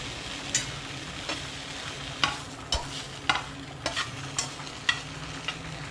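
Frying and stirring in a pan, a steady soft sizzle broken by scattered light scrapes and taps, close up with no voices.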